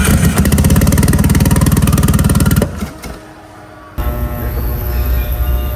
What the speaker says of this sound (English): Crank it up, give it some throttle, keep it alive.